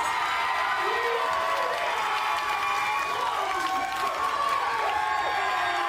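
A wrestling arena crowd erupts in loud, sustained cheering and whooping after a victory, a dense roar of many voices with scattered shouts and applause throughout.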